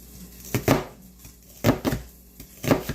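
A knife coarsely chopping an onion on a board in a home kitchen, three clusters of two or three quick thuds separated by short pauses, close and clear with no voices.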